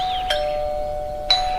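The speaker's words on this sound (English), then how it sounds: "Bring, bring, goes the doorbell" Doorbell chiming twice, a clear electronic ding with a sustained ringing tone between the two strikes, close and alone in a quiet room.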